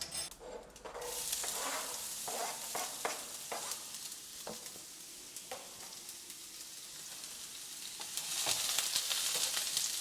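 Chopped onion sizzles and crackles in a hot pan, a steady fry with intermittent stirring scrapes, then a louder hiss swelling near the end, with no one speaking.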